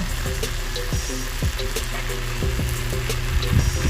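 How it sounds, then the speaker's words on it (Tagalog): Pieces of pre-fried chicken sautéing with onion and garlic in a pan for Coke chicken adobo, giving a steady, loud, close sizzle with scattered crackles and light knocks of the spatula. "lalagyan na natin yung ating mga na-fried na chicken kanina"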